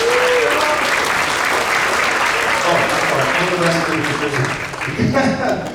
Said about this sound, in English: So a big round of applause for Ron Mead as he approaches the microphone.